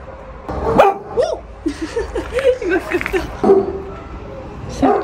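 A shelter dog, likely a Staffordshire terrier, gives sharp barks and yips mixed with whimpering whines over a few seconds, close to the listener, while people talk and react nearby.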